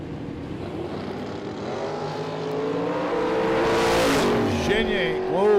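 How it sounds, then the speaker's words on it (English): At a dragstrip, a Corvette races a wheel-standing Chevelle, with engines droning and rising in pitch as the cars accelerate down the track, growing louder toward the end, while a commentator talks over the racing. "He's up against the wheel-standing Chevelle out of Quebec City, Max Desroches."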